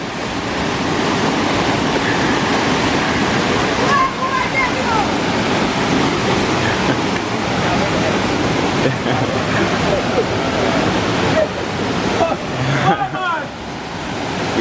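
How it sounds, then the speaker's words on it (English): Reach Falls waterfall in Portland, Jamaica, a steady loud rush of falling water filling the whole scene, with voices talking faintly over it and brief splashes near the end. "we're going to river man"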